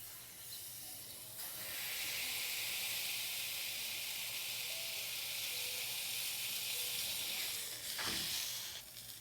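Smashburger patties pressed onto a preheated, greased griddle give a loud, steady broadband sizzle that swells in after a second and holds for several seconds before tapering off.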